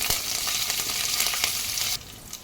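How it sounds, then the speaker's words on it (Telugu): Tempering of urad dal, chana dal, mustard seeds, cumin, dried red chilli and curry leaves frying in hot oil, a steady loud sizzle with spattering crackles that drops off sharply near the end. "అందులో పోపులు మనకి మినపప్పు, శనగపప్పు, ఆవాలు, జీలకర్ర, ఎండుమిర్చి అండ్ దెన్ ఇప్పుడు కరివేపాకు కూడా వేసి బాగా ఫ్రై"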